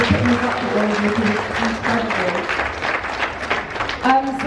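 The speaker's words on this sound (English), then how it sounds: "just a massive round of applause for all the speakers" An audience at a teen summit seminar applauds the speakers: continuous dense clapping throughout while a young speaker's voice carries over it.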